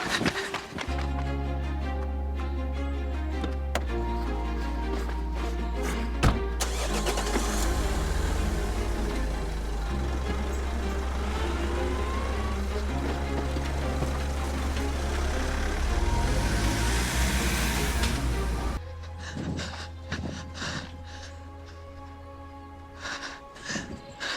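Car engine running loud and steady with a low droning hum under dramatic scene sounds and music, then cutting out, followed by sparse rustles and knocks.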